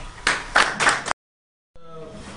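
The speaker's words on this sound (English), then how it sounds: "Let us welcome with a big round of applause, Professor Chadha." An audience at a Toastmasters club talk in Dubai claps for a welcomed speaker, a short burst of applause lasting about a second. It breaks off into silence, and quiet room sound follows.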